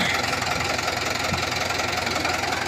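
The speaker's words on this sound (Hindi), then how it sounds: "काफी अच्छी आवाज है, महिंद्रा ट्रैक्टर की तो आवाज ही अलग होती है" A Mahindra 90 HP tractor's diesel engine idles with a steady, rough knocking rumble, close and continuous throughout.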